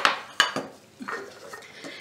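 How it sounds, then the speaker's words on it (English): Eggs are cracked one at a time into a bowl while baking birthday cookies. Two sharp, close taps of shell against the bowl rim come early, followed by softer clinks and light dish sounds, and no one talks. "we're gonna crack the eggs one at a time and just put them in this bowl first"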